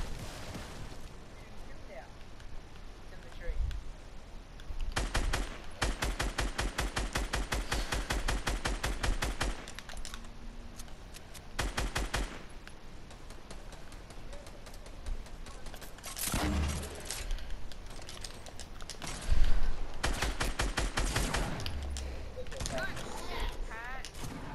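Video game gunfire erupts in long rapid automatic bursts and scattered single shots, loud and close, broken by brief pauses, while players talk over the shooting.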